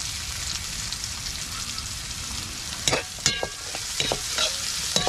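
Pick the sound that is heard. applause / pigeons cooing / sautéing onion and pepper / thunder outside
sautéing onion and pepper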